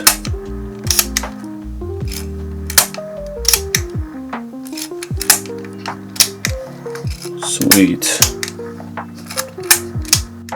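A mechanical shutter on an Olympus Pen D film camera fires again and again across its speed range, sharp clicks at uneven intervals amid gear-like whirring, with a brief spoken word partway through.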